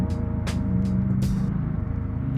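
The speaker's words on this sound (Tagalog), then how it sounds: "Ang ganda ng tunog ng kotse na to." A Honda Civic's engine hums steadily at low volume, a smooth, fairly quiet motor tone with a few brief higher whooshes of passing traffic, with no talk.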